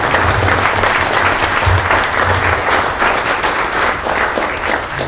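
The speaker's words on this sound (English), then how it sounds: "can we just give Rue a round of applause?" A crowd applauds loudly and continuously at a community gathering, a dense, even wash of many hands clapping close by, sustained throughout without any speech.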